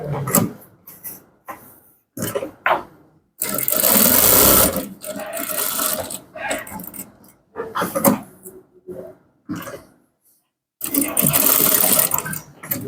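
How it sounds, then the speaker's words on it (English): A sewing machine top-stitches the pocketing of a women's high-waist trouser in several separate bursts, each a few seconds long, with quiet handling sounds between them. The bursts are close and clear. "Now the top stitching you are going to make will be to make sure that the pocketing is strong"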